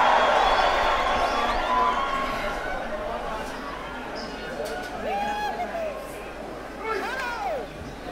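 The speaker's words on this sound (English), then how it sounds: "And the crowd thrilled to it." Crowd noise at a 2014 OFC Champions League football final in a stadium, a broad steady roar of cheering that swells at the start and then settles, with a commentator talking over it.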